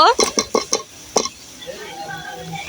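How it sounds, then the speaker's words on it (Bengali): Spoon scraping and clinking against a pan while shrimp and watermelon curry is stirred, several sharp metallic taps in a quick series, then a softer sizzle-like hiss trailing off. "এবার আমি নাড়া দিয়ে দিব।"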